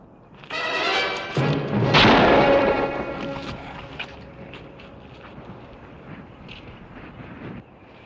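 A single gunshot goes off in an old western setting, a loud sharp crack that rolls into a long echoing tail and fades into low background rumble.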